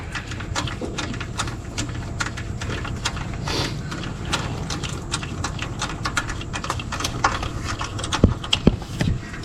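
A ratchet with a socket turns a bolt on a 2014 Ford F-150, a steady stream of rapid clicking at moderate volume with a few sharper knocks near the end.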